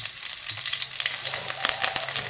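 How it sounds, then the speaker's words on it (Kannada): Chopped garlic and ginger fry in hot oil in a pan, a close, steady crackling sizzle with bright pops and occasional scraping stirs. "ಬೆಳ್ಳುಳ್ಳಿ ಬೊಕ್ಕ ಶುಂಠಿ ಪಾರ್ದು ಚೂರು ಫ್ರೈ ಮಲ್ಪೊಡು"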